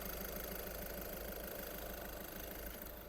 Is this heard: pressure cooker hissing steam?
no